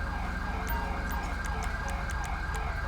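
An ambulance siren in the GTA 5 video game, played with a police mod, wails in a rapid repeating cycle over loud, constant game engine and traffic noise.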